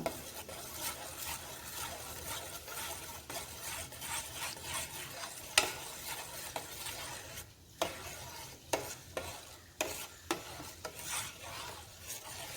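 A spoon stirs a dry spice mixture containing black cumin in a bowl, making repeated gritty scrapes and rubs close by, with a few sharper knocks near the end.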